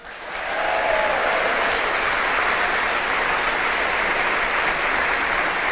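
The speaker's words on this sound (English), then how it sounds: "a big round of applause for the Albion head coach Fabian Hertzler" A fan event audience gives Brighton & Hove Albion's head coach and deputy chairman a big round of applause, swelling quickly into a dense, even roar of clapping that stays strong and unbroken.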